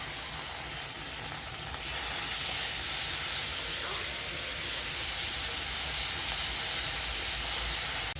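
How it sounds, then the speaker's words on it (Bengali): Onions with ginger-garlic paste, turmeric, chili powder, nigella seeds and salt frying in oil for a curry give a loud, steady hiss and sizzle that runs without a break from start to finish. "তো মশলাগুলো ভাজা হয়ে গেছে"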